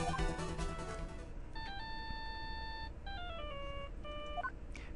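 A bright electronic phone ringtone in the video game Phoenix Wright: Ace Attorney – Justice for All plays a repeating stepped melody of beeps over faint background music.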